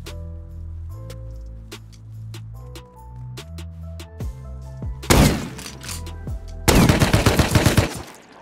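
Automatic AK rifle fire in a video game: two loud bursts of rapid shots, the second a longer rattling string, cutting in over a steady background music bed.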